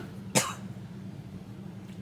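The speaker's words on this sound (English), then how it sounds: "I have to cough again." One short, sharp cough from a person indoors, close to the microphone, standing alone over a low steady hum.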